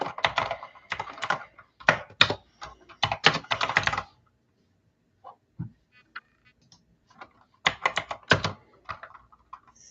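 Bursts of typing on a computer keyboard, quick clicky keystrokes in clusters with pauses between, close and fairly loud with no talk.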